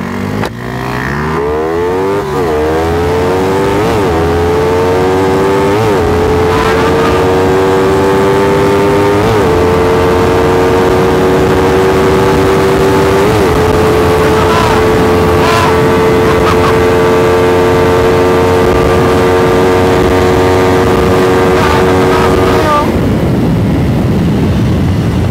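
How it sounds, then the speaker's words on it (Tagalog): Two motorcycles race side by side, a Suzuki Raider FI with a 14-36 sprocket against a loaded four-valve Yamaha Mio, engines climbing through repeated gear shifts in a loud, sustained whine for about twenty seconds before cutting off. "Raider FI versus loaded Mio."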